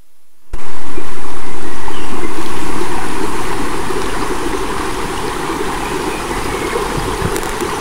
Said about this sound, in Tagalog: So may ilog din pala, yun yung ambience oh.